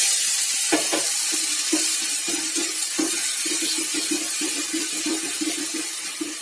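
Ghatkol leaf paste fries in oil with black cumin and dry chilli, a loud close sizzle with repeated soft pops and stirring scrapes at an irregular rhythm, no speech.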